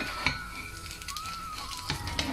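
Roshti for Krishna, with melted cheese, turned over in a pan: a faint clatter of the pan and utensil under a soft sizzle, with brief scraping touches near the start and end.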